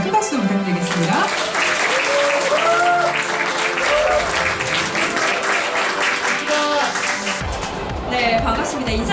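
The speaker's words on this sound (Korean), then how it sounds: "큰 박수 부탁드리겠습니다" An audience claps to welcome author Kim Jeong-hyeon at a lecture event. The steady clapping runs throughout, mixed with tonal background sound and a voice.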